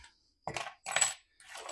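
Small metal objects clink and rattle in three short bursts as keys and small hardware from a Craftsman lawnmower are handled, with quiet pauses between.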